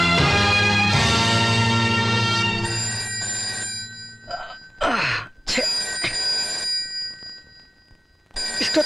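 A telephone rings loudly in a film scene with a sustained bell tone, then breaks off into sharp bursts of sound and brief voices.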